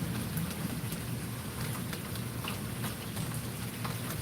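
Steady rain pours down through a storm, a dense, even hiss of drops hitting surfaces with no pauses, close and continuous, and no voices over it.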